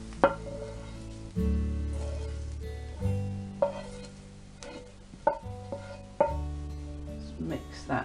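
Butter is mashed and mixed into corned beef hash in a bowl, giving soft squelching pushes and scrapes that repeat every second or so, with faint clinks between them.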